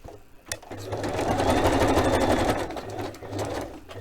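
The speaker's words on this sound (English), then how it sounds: "I could stitch down there if I wanted to, make it even stronger tuck." A sewing machine stitches a corner tuck into a paper page, a close, steady mechanical whirring run of about two seconds that starts after a brief click and slows at the end.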